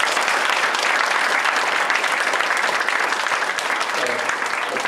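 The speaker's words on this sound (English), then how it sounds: "let's give them a round of applause" A round of audience applause at a Tea Party council forum, loud and dense clapping from a crowd that holds steady for several seconds.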